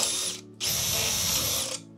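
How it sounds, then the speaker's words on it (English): Two bursts of a high-pitched whining power drill boring a hole in a jar, a short one then a longer steady run, with grinding chatter beneath. "We'll just drill a hole."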